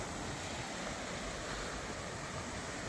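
A steady, broad rush of floodwater flowing across farm fields after heavy rain, continuous and fairly faint, like a wide stream spreading across open ground, with no voices.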